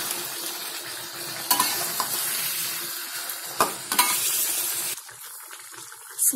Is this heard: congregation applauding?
no